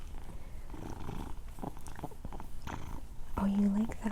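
An adopted cat purrs softly while being petted and stroked under the chin, a low steady rumble running beneath a woman's close, relaxed talk throughout.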